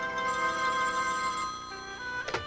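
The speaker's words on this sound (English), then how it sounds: "it all started one day when the phone rang" A telephone rings in a cartoon with a steady electronic trilling tone that runs loud and continuous for about two seconds before breaking off, with no one speaking over it.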